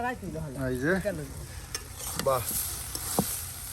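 Food sizzles in a hot pan while a utensil stirs and scrapes against it in short strokes.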